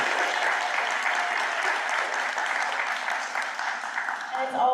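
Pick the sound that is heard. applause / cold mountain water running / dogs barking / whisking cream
applause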